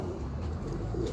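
A pet pigeon coos in a low, soft burst, fairly faint against a quiet background, with nobody speaking.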